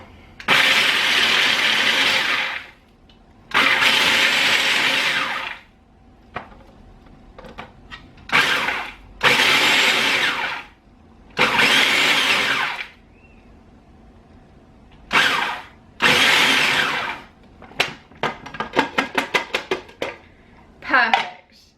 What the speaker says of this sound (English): I'm going to pulse these until I just see the hazelnuts and the almonds to the consistency I like